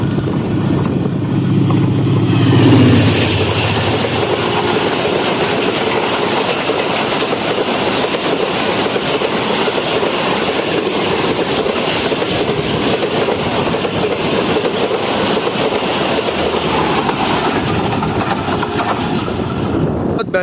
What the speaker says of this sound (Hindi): ये आ रही है मेरे सामने से लाहौर कराची के दरमियान चलने वाली 16 डाउन कराची एक्सप्रेस